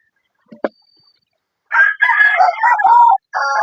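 A rooster crows loudly and close, the long call breaking into a second shorter crow after a brief pause, preceded by a small knock.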